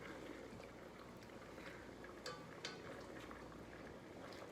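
Rice water boils in a pot with a steady, faint bubbling hiss and a few brief louder pops, heard alone without talk.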